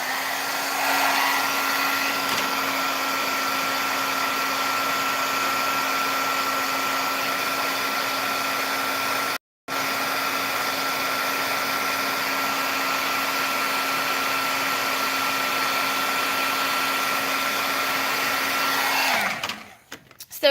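A handheld dryer blows steadily to dry a stamped paper craft project, a loud continuous whirring hum that stops once for an instant near the middle and cuts off at the end, with no talk over it.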